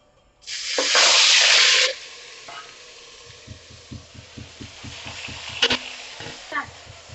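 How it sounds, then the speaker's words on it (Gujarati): Onion-garlic gravy hits hot oil tempered with asafoetida for pav bhaji, bursting into a loud, close sizzle that quickly settles into a softer hiss with a steady rhythm of spoon stirring and scraping. "હિંગ મૂકીને પેલા કાંદાને લસણની જે ગ્રેવી હતી ને એ વઘારી નાખી"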